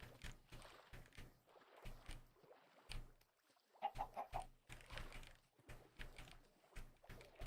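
Chickens cluck repeatedly in a video game, short pecking bursts in an uneven rhythm at moderate volume that keep going from start to finish.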